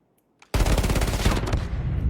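Rapid automatic gunfire from guns in a video game erupts after a short pause and rattles on in one loud, continuous burst to the end.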